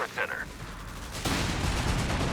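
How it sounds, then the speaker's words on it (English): Machine gun fire in the Company of Heroes 3 strategy video game, a brief tone, then a sustained dense rattle of rapid fire with distant battle rumble. "This is the MG, not the grenade launcher, so it's not very effective against the buildings."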